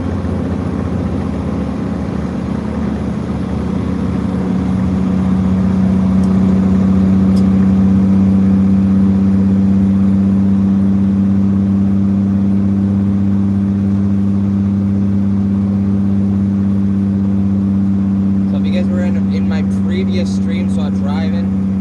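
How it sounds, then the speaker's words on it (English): A truck with an aftermarket exhaust drones steadily while driving down the road, a loud, continuous low engine and exhaust rumble throughout, with someone talking over it. "You hear the difference now of the exhaust"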